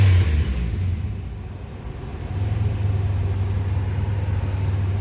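A 2006 Grand Prix 3.8L V6 after a head gasket replacement, with an exhaust leak, revving up: a steady low engine rumble that dips briefly, then rises again to a firmer, sustained drone, heard up close with no talk.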